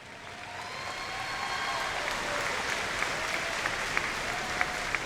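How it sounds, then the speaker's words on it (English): Graduation audience at the Belleville West 2018 ceremony applauds steadily, a dense wash of clapping that swells over the first second and holds, with a few sharper claps near the end. "Students, let's give them a round of applause."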